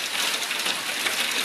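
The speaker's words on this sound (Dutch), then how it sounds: "Zulke hagelblokken." Hail pelting down hard on a garden during a sudden, intense hailstorm, a dense, steady roar of impacts that fills the whole clip with no talk over it.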